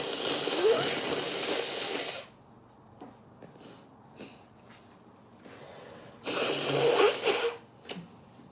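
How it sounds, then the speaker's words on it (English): A person blows their nose, two loud, harsh nasal blasts at the start and near the end, with quieter breathing and small sounds between. "I'm just gotta blow my nose."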